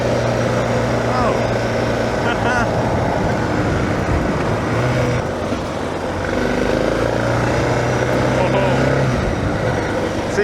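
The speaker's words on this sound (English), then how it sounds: "CF Moto over there that went past. 450 MT, I found that bike." A CF Moto 450 MT motorcycle rides past on a road, its engine a steady drone blended with surrounding traffic noise while a person talks over it.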